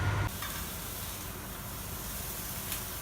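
Chicken pieces going into a frying pan greased with Frylight one-calorie spray oil give a steady, even sizzle and hiss after a brief louder onset, with no talking.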